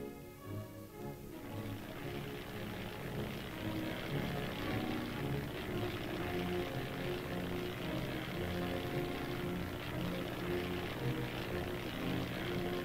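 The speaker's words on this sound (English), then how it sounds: "An exercise in mobile defense involves liaison with reconnaissance aircraft." A propeller-driven reconnaissance aircraft drones overhead during a mobile armored defense exercise, a steady, fairly distant engine hum that holds evenly throughout.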